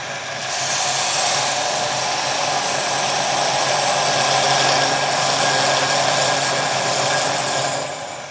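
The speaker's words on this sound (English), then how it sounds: "I'm going to get a diamond point parting tool, and I will part off at this end so I've got room to round the top of my handle." A diamond point parting tool cutting into scrap hardwood spinning on a wood lathe, producing a steady, loud whirring hiss that holds evenly for several seconds before easing off.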